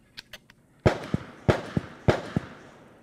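An Airgun Depot Long Ranger airgun is fired at a 150-yard golf ball target, with three loud sharp cracks spaced about a second apart, each followed by a faint distant impact pop and short echo.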